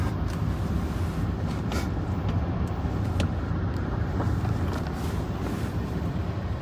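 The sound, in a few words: 2018 Hyundai SUV driving on the road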